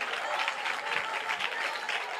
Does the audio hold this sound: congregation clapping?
yes